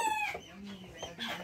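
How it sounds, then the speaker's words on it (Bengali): A Brahma chicken at a poultry farm in Gabtali, Bogura lets out a short run of clucks, fairly close and moderately loud, over a brief, quiet background. "এটাই সেই ব্রাহ্মণ বড় মুরগি না?"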